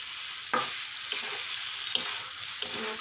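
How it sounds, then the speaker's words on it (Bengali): Soybean curry sautéed in a pan for a vegetarian soybean rasa, a steady close sizzle with a few sharp spoon scrapes and knocks against the pan at intervals, no voices. "এবার একটা সুন্দরভাবে কষাবো।"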